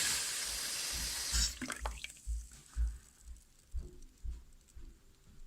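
Residual water drips from a newly replaced tap fitted with ceramic cartridges. A short burst of running water gives way to close, regular single drops landing every half second or so.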